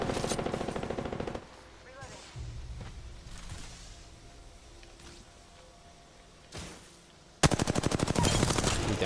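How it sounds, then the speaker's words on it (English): Automatic gunfire rattles in a multiplayer shooter video game, with a loud burst at the start, quieter scattered shots in the middle and another loud rapid stream near the end, alongside occasional voices. "Getting shot from behind, I think."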